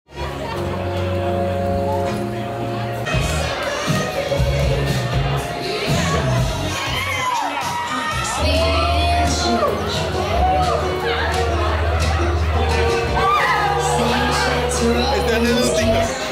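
Crowd at a packed venue shouting and cheering in loud continuous waves, with lively chatter, laughter and a steady musical beat running underneath throughout.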